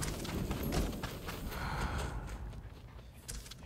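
Horse hooves clip-clop steadily in the game Ghost of Tsushima, a moderately close, continuous trot over a busy background with some breathy snorting.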